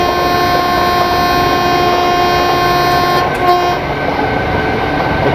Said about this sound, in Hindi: वैग 7 यार एक्सेलरेट तो अच्छा कर रही है